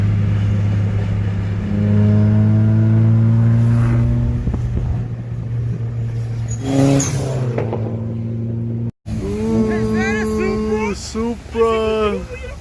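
A Toyota Supra sports car's engine hums and revs loudly at a car wash, rising and falling in pitch, with people talking over it.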